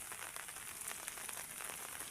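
Rain falls steadily outdoors on a fishing trip, a soft, even hiss of drops with faint pattering, quiet and continuous with no voices.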